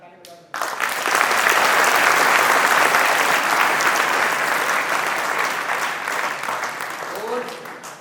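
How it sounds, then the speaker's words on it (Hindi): An audience at a motivational seminar claps together in a sudden loud burst of dense applause that holds steady for several seconds and then slowly thins out. "एक बार ताली बजा दो"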